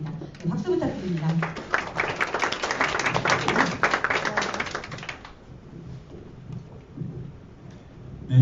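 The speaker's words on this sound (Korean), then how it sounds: "박수 부탁드립니다." Audience at a social venture forum breaking into sustained applause, a dense wash of clapping that swells for several seconds and then dies away, with speaking voices before and after.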